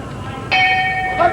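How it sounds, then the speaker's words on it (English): A boxing bell opens a round at a 1986 US-USSR amateur bout, with one sharp ringing strike that sustains, then a second strike, over a murmuring arena background. "There's the bell."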